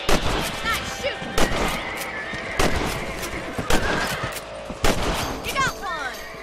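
Gunfire in the Red Dead Redemption video game on PS3, a string of sharp, loud shots spaced irregularly over a busy game soundscape, with a horse whinnying briefly.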